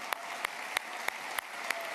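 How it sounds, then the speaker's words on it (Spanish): An audience applauds with a steady wash of clapping at low volume, with some louder single claps recurring through it. "Un aplauso para estos que acaba de tener familia, por favor."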